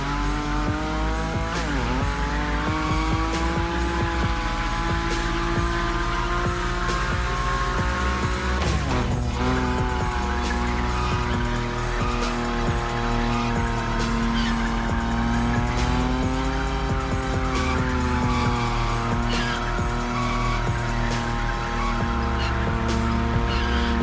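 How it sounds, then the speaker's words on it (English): Nissan Nismo car in The Crew Motorfest sliding at high speed, a steady, loud engine drone with shifting pitch and tire squeal running continuously throughout. "Your Nismo is powerful enough to slide along on its own when you're at high speed, so don't be afraid to keep your foot on the gas"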